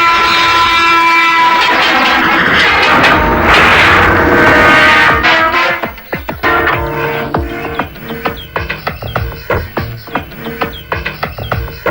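A loud train horn blares nearby, then the wagons roll past with a rhythmic clickety-clack on the rails.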